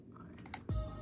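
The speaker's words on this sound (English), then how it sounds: "Don't make fun of my typing either." Quick typing on a computer keyboard gives a short run of light, close clicks, then a sudden low thump that lingers to the end.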